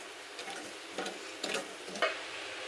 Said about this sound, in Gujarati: એક ચમચી આપણે ઘી એડ કરશું અને સરસ રીતે મિક્સ કરી લેશું.